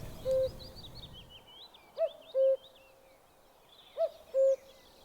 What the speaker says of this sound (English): You're going to hear the cuckoo.